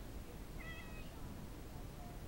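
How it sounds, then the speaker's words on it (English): A pet cat gives a single faint, drawn-out meow over a steady background hiss, with a second softer note following shortly after. "See the kitty cat?"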